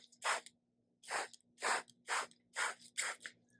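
A homemade organic pest-spray bottle fires six separate, evenly spaced hissing bursts, each roughly a third of a second long, close and fairly loud, with no one talking over them.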